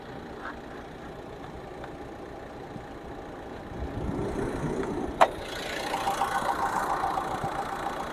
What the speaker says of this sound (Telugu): ఇంజన్ మాత్రం చాలా సైలెంట్ ఉంది.